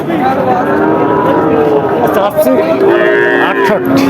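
At the Satmail cattle market, a cow lets out loud, drawn-out moos close by, one after another, over a murmur of voices.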